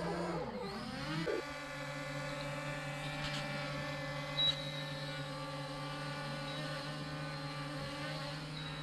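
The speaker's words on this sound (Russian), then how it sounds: "Дрон запустился." An LYZ RC L500 PRO mini drone spins up for takeoff, its propellers rising quickly to a steady, close, high-pitched buzzing whine that holds level throughout, with no talking over it.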